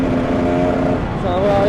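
A KTM 300 EXC supermotard two-stroke motorcycle accelerates, its steady engine drone rising in pitch toward the end, heard continuously and fairly loud from the rider's position.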